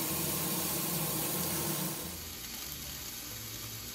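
Korean BBQ flanken short ribs in their marinade hiss loudly on a hot pan, then the sizzle quickly drops to a quieter steady crackle after they are flipped, with no voices.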